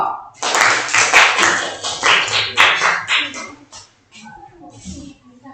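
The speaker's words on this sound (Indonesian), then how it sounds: "Oke, tepuk tangan buat kelompok A." Classroom clapping for a student group during a maths lesson: a short burst of a few pupils clapping unevenly at close range, fading into quieter room noise with some talk.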